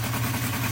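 A Honda CB350 motorcycle engine runs steadily with its carburettors freshly fitted, before balancing, and with almost no choke, giving a close, continuous low throb with no voices.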